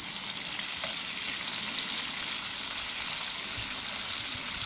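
Onion fries in a pan with a continuous crackling sizzle and occasional sharp pops, close and steady throughout, with no voices.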